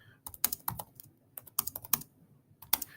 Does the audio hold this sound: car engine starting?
no